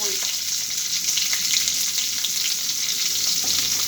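Onions sizzle and fry in leftover oil right after fish has been fried in it, a steady dense hiss with faint stirring scrapes, close and continuous with no talk.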